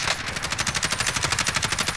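Rapid automatic gunfire from a video game rattles in a fast, even burst of about twenty shots over two seconds, loud and close with no talk over it.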